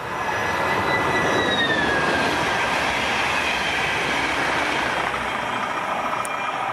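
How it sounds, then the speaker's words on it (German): A train rolls past close by, a loud steady rumble of wagons on the rails with a faint high wheel squeal drifting downward, sustained throughout with no talk. "Jetzt kommt auch noch ein Zug."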